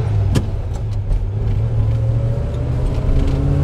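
A 1956 Chevy Bel Air Nomad's engine drones at a steady, loud low rumble while cruising at moderate speed, heard from inside the car with no talk.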